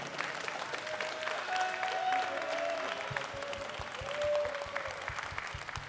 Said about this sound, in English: So now you can give a round of applause in person if you want to.